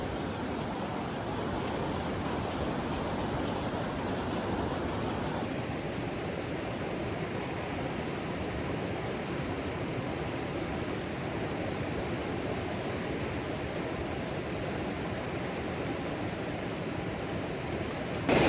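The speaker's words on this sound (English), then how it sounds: "I'm sitting at the top of a waterfall" Big Falls in Western Maine pours steadily, a dense, unbroken roar of falling water heard up close from the top of the falls, constant and loud with no voices.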